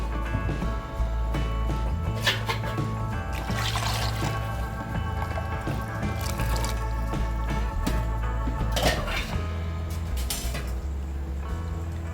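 Chickpea cooking water pours and trickles steadily into a pot of Kerala kadala curry for several seconds, with small splashes and drips over a low hum.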